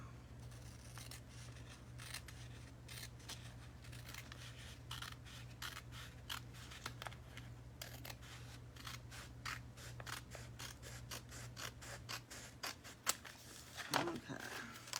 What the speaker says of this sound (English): I'm going to have to trim that because I got it off the edge just a little bit.